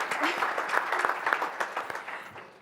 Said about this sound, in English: we can clap her though